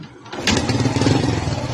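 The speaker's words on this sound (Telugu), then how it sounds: "బండి స్టార్ట్ చేశానండి" A motorcycle with a completely dead battery, running on a small capacitor instead, fires up after a brief quiet start, then runs with a loud, rough, steady idle close by.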